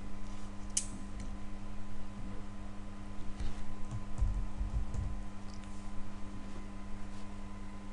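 Keys on a computer keyboard being typed while entering search criteria into stock records software, light faint clicks over a steady electrical hum, with no voices.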